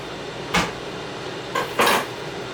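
Garlic cloves smashed one at a time to loosen their skins for a barbecue rib rub, giving three sharp knocks on a kitchen surface: one alone, then two close together near the end.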